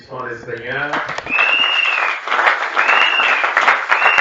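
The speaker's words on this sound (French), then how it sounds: "Applaudissons le Seigneur" A church congregation bursts into loud applause praising the Lord, a dense clapping wash following a short stretch of speech, with sustained tones ringing over it.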